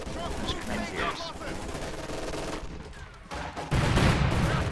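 Automatic fire from PPSh submachine guns in a World War II strategy video game, with scattered bursts and shots mixed into a dense battle din, swelling louder near the end.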